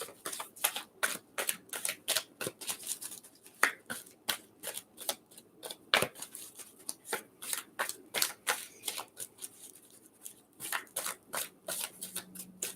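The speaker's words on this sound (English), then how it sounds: "give it a good shuffle" A deck of tarot or oracle cards being shuffled by hand, with quick repeated riffling snaps in uneven bursts, close and fairly quiet, with no talking.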